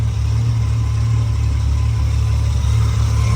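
A 1973 Triumph TR6 with freshly rebuilt carburetors idles steadily, a loud, close, even low rumble holding the same note throughout with no voices over it.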